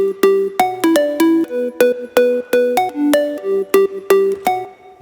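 A bright, layered synth bass plays a bouncy repeating riff of short plucked notes, loud and upfront with no other sounds.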